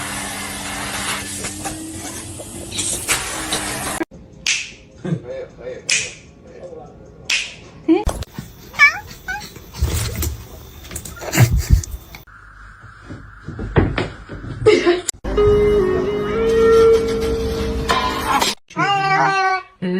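A cat meows briefly near the end of a choppy run of mixed clicks, thumps and voices, its short cry close and clear amid the other abrupt sounds.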